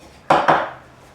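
Two quick metallic clanks of a utensil knocking against a pot of boiling sea pie soup, close and fairly loud, each ringing briefly before it fades.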